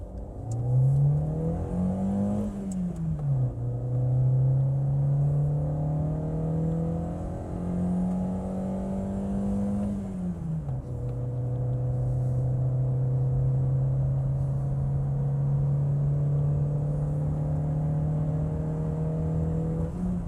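A VW Saveiro Extreme pickup accelerates hard through its gears to about 6000 RPM, the engine note climbing steadily, dipping at each gear change, then holding a long steady drone, heard from inside the cab.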